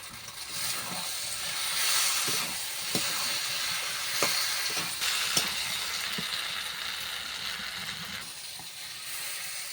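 Young jackfruit sizzles steadily as it sautés in a hot pan, broadband frying noise with occasional sharp clicks and scrapes of stirring, close by, no voices.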